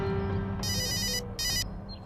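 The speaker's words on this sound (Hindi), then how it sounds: "अरे किसका फोन आ गया?" A phone rings with two bright electronic ringtone bursts separated by a short gap, fairly close and clear over a quiet background hum.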